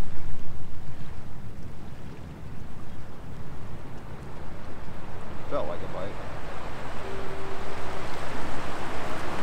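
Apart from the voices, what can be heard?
waves surging over rocks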